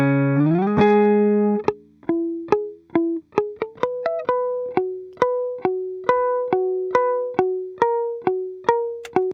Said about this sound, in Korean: 이펙터를 최대한 빼보고 기본 톤부터 들어보겠습니다.